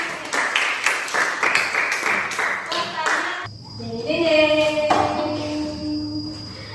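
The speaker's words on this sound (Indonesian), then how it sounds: "Oke, bagus, tepuk tangan." A classroom of students claps hands together for a few seconds, a dense burst of applause in a school lesson, followed by quieter room sound with a faint tonal hum.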